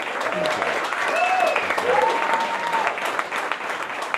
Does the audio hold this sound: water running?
no